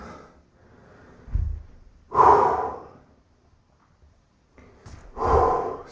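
Heavy breaths during a 20-minute home workout session, three loud exhalations spaced a couple of seconds apart, close to the mic, with a quieter snort-like breath early on and no talking.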